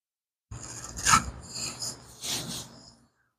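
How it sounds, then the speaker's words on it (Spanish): Acrylic paint mixture being stirred in a container for a marbling project, giving three short scraping, rasping strokes close up with no talking. "Vamos a revolver un poquito para que nos quede la mezcla."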